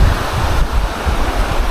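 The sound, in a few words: river water flowing at a riverside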